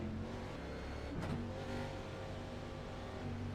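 A Chevrolet Camaro ZL1 race car engine in iRacing rolls along steadily under pace-lap conditions, a droning mid-pitched hum with a brief swell of revving partway through.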